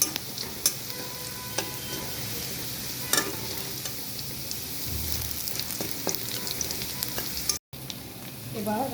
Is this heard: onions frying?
yes